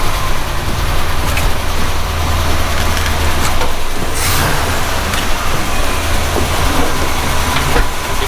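A long-neglected project vehicle's engine runs steadily up close, a loud continuous rumble with a low droning hum and broadband mechanical noise, holding an even level throughout with no voices over it.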